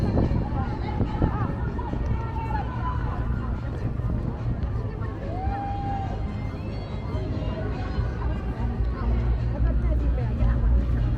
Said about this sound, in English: there's a big crowd and a bit of live music going on